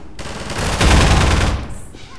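Sustained burst of automatic gunfire in the video game Half-Life 2 Episode 1, loud and continuous, building to a dense peak in the middle before tapering off.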